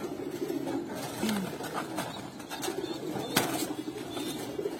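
Two big pigeons, a male and a female, give soft low coos close by, faint and intermittent against a quiet, slightly noisy background.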